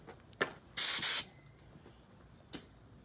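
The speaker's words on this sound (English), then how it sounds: "Then why is the air still coming? Because it's all in that tank." Compressed air from an air compressor tank, with the compressor switched off, escapes in a loud, close hissing blast of about half a second, bracketed by faint clicks.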